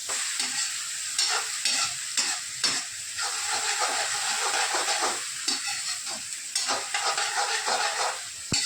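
Green garlic and onion fry in a pan with a loud, continuous sizzle, broken by the scrape and rustle of stirring, close up and with no voices.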